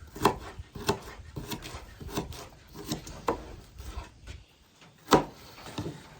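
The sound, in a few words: knife cutting a chunk off an onion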